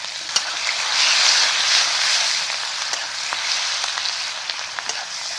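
Chopped onion and cumin seeds fry in a hot pan with a loud, steady sizzle, sprinkled with sharp crackles and pops, and no voices.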